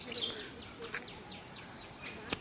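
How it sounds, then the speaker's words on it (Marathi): Sparrows chirp faintly in a leafy eco park in Pune, a scattering of quick high tweets repeating over a quiet outdoor background. "चिमण्यांचा चिवचिवाट आहे इकडे, चिवचिवाट."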